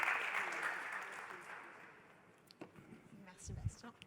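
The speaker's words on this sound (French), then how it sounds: "On peut l'applaudir." Applause from a startup event audience for a speaker, fairly faint and steady at first, then tapering off, with a few scattered claps and small noises near the end.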